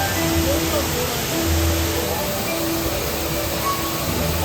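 The artificial waterfall of the Magic Mirror rock feature at Tokyo DisneySea pours in a steady, even hiss of falling water, continuous and fairly close, with faint tonal background sounds underneath.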